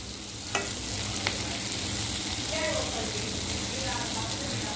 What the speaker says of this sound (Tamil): இன்னும் கொஞ்சம் ட்ரை ஆகட்டுமே பாருங்க இப்போ வெந்துட்டுருக்கு